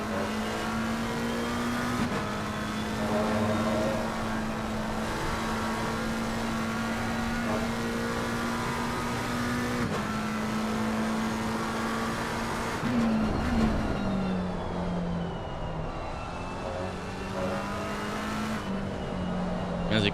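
A McLaren 720S Evo race car laps the Nürburgring in a racing video game, its engine droning steadily and near, rising and falling through gear changes and acceleration, with brief tire noise.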